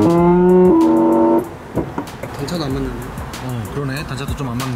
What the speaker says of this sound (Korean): 슬라이딩 도어가 닫힐 때 개구리가 우는 소리가 또 들리죠